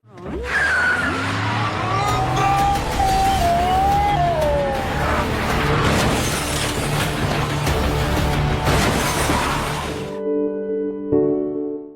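Film car chase with Bowo's car being cornered in an alley: a continuous loud rush of engines, screeching tires and a wailing pitch-sliding tone, with busy impacts, ending in a sudden cut to a sustained chord.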